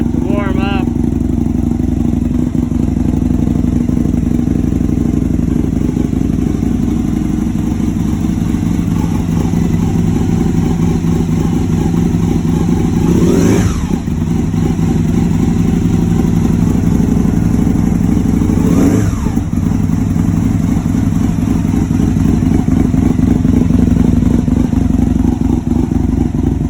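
A cold-started engine runs rough and lopey while warming up, a steady close idle with a rumbling, uneven beat held for the whole stretch, with a couple of brief clanks partway through.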